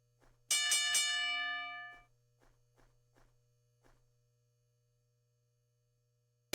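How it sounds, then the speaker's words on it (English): A single loud ringside bell struck at the start of a professional wrestling bout, one sharp clang ringing out and decaying over about a second and a half, followed by a few faint knocks over a steady hum. "And there's the bell."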